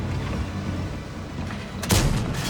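A tank's main gun fires in an online tank battle game, the Kunze Panzer cannon giving one loud, sharp boom late in the clip over steady engine rumble and game ambience.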